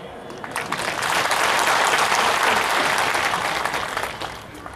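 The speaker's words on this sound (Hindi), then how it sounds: "बहुत कम लोगों ने तालियां बजाई।" Applause from a crowd swells and holds for several seconds, a dense patter of clapping that is fairly loud and then eases off.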